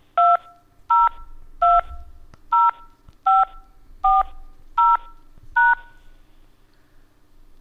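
Telephone keypad tones entering a burn permit number into an automated call-in system: eight crisp, evenly spaced beeps, each brief and loud over a faint line hiss.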